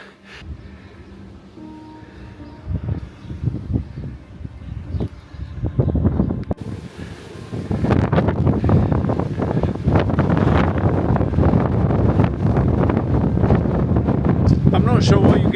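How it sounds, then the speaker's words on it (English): Strong wind buffets a hilltop near wind turbine blades and trees during a storm in Portugal, a rushing roar that swells louder and denser halfway through and keeps up steadily. "My God, the wind is ferocious."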